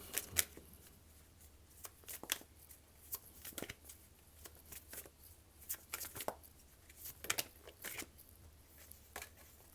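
Tarot cards are shuffled by hand in a quiet room, producing soft, irregular riffling and slapping bursts, close and faint, with short pauses between handfuls.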